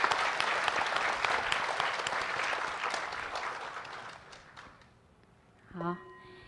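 A large congregation at a Buddhist group practice ceremony in a Seattle temple breaks into dense, sustained applause that gradually fades out, followed by a brief voice at the end.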